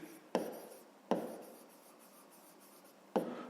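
A pen writes on paper during a fifth-grade maths exercise, three quick scratching strokes spaced apart, each followed by a soft trailing rub, quiet and close with no speech.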